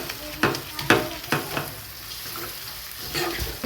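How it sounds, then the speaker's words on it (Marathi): Tomato frying in a pan for a chutney, with a soft continuous sizzle and a few distinct scrapes of a spoon stirring, close by. "खूप छान असं फ्राय झालेलं आहे आपलं टोमॅटो खूप छान झालेलं आहे"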